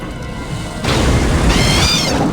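A rocket launcher round bursts with a loud, sudden boom in Aliens vs. Predator 2, the blast arriving close and full after a quieter stretch, followed by a lingering rumble with no talking.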